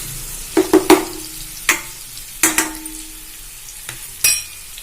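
Onions frying with turmeric for raw mango rice, a soft steady sizzle in a pan broken by several sharp clinks and scrapes of a spoon stirring against the metal.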